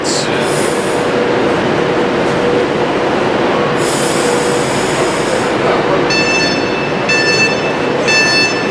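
A train pulls out of Preston station with a loud, continuous rumble from inside the carriage, shrill wheel squeal early on and rhythmic clicking of the rails toward the end.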